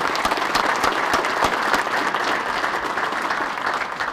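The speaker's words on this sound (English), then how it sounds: "Join me in a round of applause for outstanding staff members and our Board of Directors." A large audience at a New England PGA section spring meeting applauds staff and board members, a loud, dense, continuous roar of clapping filling the room throughout.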